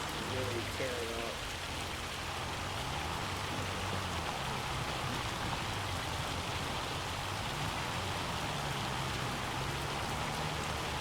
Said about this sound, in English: This rain is really tearing up.